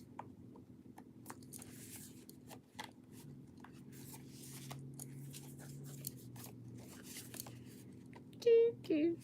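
A deck of cards is shuffled quietly nearby, giving a run of soft, irregular riffling and rubbing bursts over a low background hum. A brief voice-like sound comes near the end.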